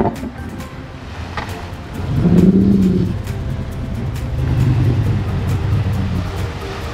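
Motorboats heading out to sea from the shore at high tide, their engines swelling into a moderate drone twice and holding steady, heard alongside a background hiss of wind and waves.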